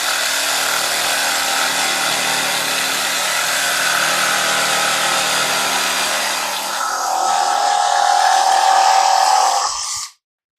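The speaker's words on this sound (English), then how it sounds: "We're going to take our jigsaw, and I'm just going to go right on that line and cut straight across it." A jigsaw cuts straight across a marked line in wood for a duck decoy spinner, a loud continuous buzzing rasp at close range that holds for about ten seconds before stopping abruptly.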